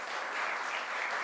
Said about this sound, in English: let's give another round of applause to our superintendent